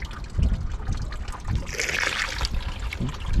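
Old coolant draining out of a Honda Civic radiator during a flush, a loud, continuous close-up trickle and splatter of liquid pouring into a container.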